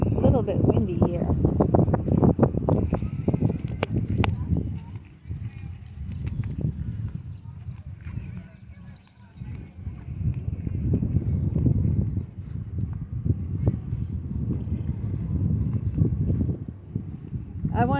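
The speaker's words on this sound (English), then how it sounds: "A little bit windy here." Gusting wind buffets the microphone outdoors in Larz Anderson Park in Brookline, Massachusetts, a loud low rumble that swells and dips in waves, briefly easing partway through.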